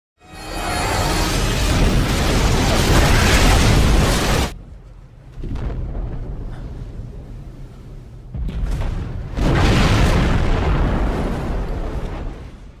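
A German destroyer blows up in a war film: a massive, loud roaring blast that sustains for several seconds, dips into a rumbling lull, then swells into another heavy explosion.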